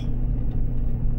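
A car engine hums low and steady inside the cabin while the driver feathers the throttle during a blizzard in Alaska, the engine losing power. The drone is loud and continuous, with no talking.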